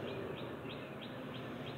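Birds calling outdoors in the early morning, a faint repeated chirp recurring at a steady rhythm about every third of a second over a low steady background hum.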